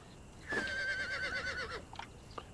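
A white horse in the video game Conan Exiles gives a single clear, drawn-out whinny that wavers for about a second, followed by a couple of faint short snorts.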